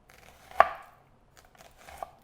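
A knife slices thinly through a shallot on a cutting board, giving two quick, crisp taps about a second and a half apart, close and fairly quiet.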